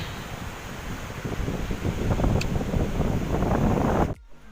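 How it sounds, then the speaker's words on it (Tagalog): Strong storm wind roars and buffets the microphone in a steady, loud rush, then cuts off abruptly near the end. "Sigkadug hangin"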